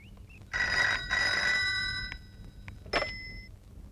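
A telephone rings in a quiet room, two clear bursts of the bell, the second shorter, with no one speaking over it.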